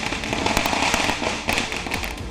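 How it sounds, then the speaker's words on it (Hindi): Firecrackers bursting on streets during a public celebration, a dense, continuous crackle of many small pops with a few sharper bangs standing out, loud and close throughout. "सड़कों पर पटाखे फोड़कर खुशी का इजहार किया गया।"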